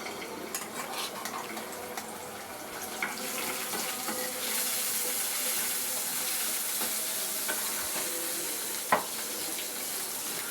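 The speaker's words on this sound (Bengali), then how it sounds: "ডাল বাগার দিচ্ছি এখন" Garlic and onion frying in hot oil to temper lentils, a fairly soft steady hiss that swells midway, with light stirring clicks and a sharp knock near the end.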